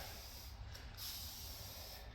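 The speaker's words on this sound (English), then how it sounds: "This is just a multi-purpose cleaner. Just spray it on." A spray bottle of multi-purpose cleaner hisses faintly and continuously as it is sprayed onto a car door, a soft steady spray with no voices over it.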